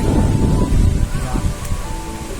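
Strong wind gusting across a hillside under a cloudy sky ahead of a storm, a loud, steady broadband roar that rises and falls with occasional buffeting, with no talk.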